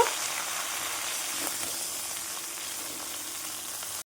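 Water lily stems and prawns sizzle steadily in a hot pan while being stirred, a broad, even frying hiss with a faint scrape, close and continuous.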